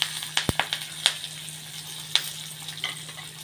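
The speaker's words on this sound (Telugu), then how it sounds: "పోపు కూడా వేయించి రెడీ చేసి పెట్టేసుకుంటున్నానండి" Green chilies, dry red chilies and curry leaves fry in hot oil for a tempering, a soft steady sizzle broken by sharp crackles and pops at uneven intervals, close by.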